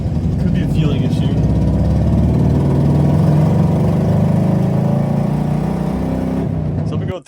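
Worn Subaru WRX engine running rough and down on power with a possible fueling fault, a loud steady close-up drone with uneven pulsing that holds throughout and cuts off at the end, with no voices.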